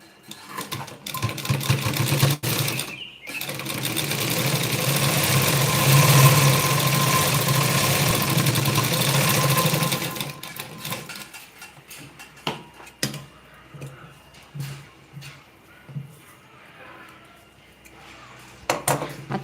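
An electric sewing machine stitches a blouse hook strip, a steady close whirring run for about ten seconds that then stops, followed by short scattered handling noises and fabric movement.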